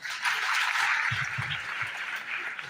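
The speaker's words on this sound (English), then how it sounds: "A big round of applause for him." An audience at an interschool debate claps for a student, a steady wash of hand claps at moderate distance lasting a few seconds with faint murmuring underneath.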